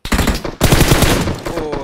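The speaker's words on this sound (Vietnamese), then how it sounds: "À, bọn này bắn ghê quá." Rapid automatic gunfire from the mobile battle-royale game PUBG Mobile crackles in loud, dense bursts, breaking briefly before a second sustained volley, close and harsh with no speech.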